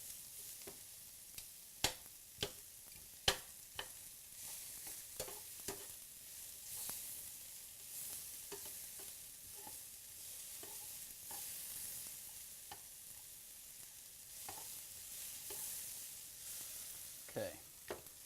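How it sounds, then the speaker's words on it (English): Onions sauteing in a skillet for a pork chop dish, a soft continuous sizzle with repeated sharp clacks and scrapes of a utensil stirring against the pan, fairly quiet and close, no talking. "I'm going to saute our onions"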